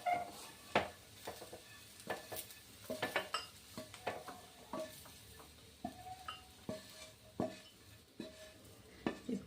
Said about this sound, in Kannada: ಈ ಥರ ಹಾಕಿ ಎಲ್ಲ ಮಿಕ್ಸ್ ಮಾಡಿ ಚೆನ್ನಾಗಿ ಮಿಕ್ಸ್ ಮಾಡಿ